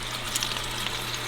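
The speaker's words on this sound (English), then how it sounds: "Let's get her on the skillet. There you go. She's sizzling." A steady, close sizzling hiss of a meat patty frying in a hot skillet, with no talking.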